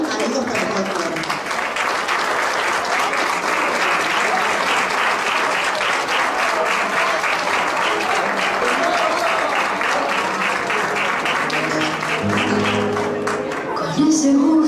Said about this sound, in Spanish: Lo recibimos con un fuerte aplauso a Cecilia y a la agrupación Amigos por el Folclore.